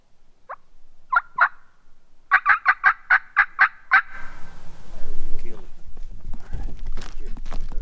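A wild turkey gobbles in answer to a call in Virginia hardwoods: a single note, a short pair, then a rapid run of about eight rolling gobbles, followed by rustling footsteps and low noise.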